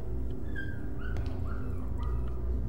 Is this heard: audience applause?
no